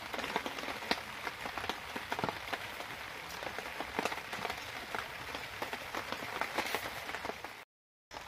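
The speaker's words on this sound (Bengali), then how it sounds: "বৃষ্টি হচ্ছে আর আমাদের রান্নাঘরের ছাদের উপরে বৃষ্টি পড়ছে, খালি আওয়াজ হচ্ছে টপ টপ করে" Steady rain drums on a kitchen roof in a village, a dense, even patter of drops throughout with no talking, ending in a brief gap of silence.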